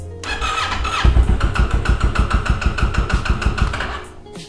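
A Kawasaki Ninja 650 motorcycle engine cranks with a whirring starter, then catches into a rapid, pulsing idle, loud and close, before cutting off at the end.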